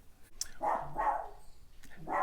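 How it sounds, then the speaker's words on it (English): A dog barks a few times in the background, sharp, moderately distant barks in quick succession with a short pause between them, no talk over them. "I got a dog going crazy in the background"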